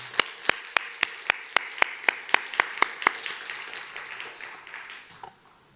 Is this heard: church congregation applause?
yes